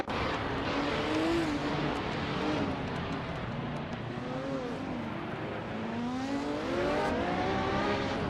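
Porsche 917 and Ferrari 512 race cars in a racing video game roar continuously at high revs, engine pitch rising and falling through gear changes, loud and sustained throughout.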